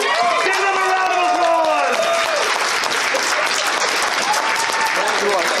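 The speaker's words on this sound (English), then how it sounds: "Round of applause, come on now." A convention audience applauds loudly and steadily, dense clapping throughout with voices and cheers mixed in.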